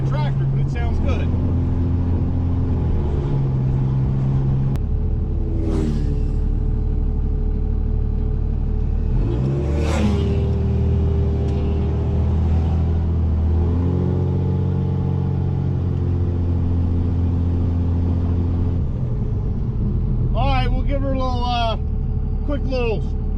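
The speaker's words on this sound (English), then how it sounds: "the exhaust is, well, it's straight piped and it's pretty loud. It sounds good though. I mean, it sounds like a tractor" A straight-piped second-generation 24-valve Cummins diesel truck rumbles loudly while driving, its deep exhaust drone rising and falling with several revs and gear changes, while someone talks over it.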